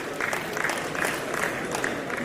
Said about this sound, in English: a round of applause as we welcome our patrons and trustees